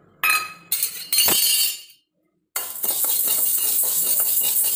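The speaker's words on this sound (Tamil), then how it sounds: "கடாய் சூடாகிடுச்சு. இப்போ கொள்ளு வறுத்துக்கலாம்." Horse gram goes into a hot kadai with a few loud rattling bursts of hard grains, a brief pause, then a steady bright rattling hiss as the lentils are stirred and dry-roasted.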